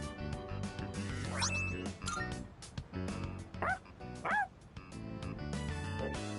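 Dog in the video game Persona 3 Reload barking and yipping in short bursts over game music and effects.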